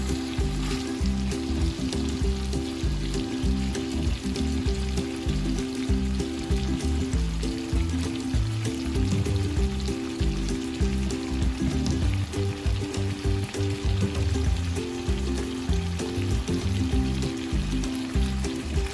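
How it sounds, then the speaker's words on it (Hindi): Chicken sizzles loudly and steadily on a hot tawa griddle, street-food style, a constant crackling hiss with bubbling pops throughout and no one talking. "इसकी सिज़ल की आवाज़ आपको आ रही होगी कैसे सिज़ल कर रही है"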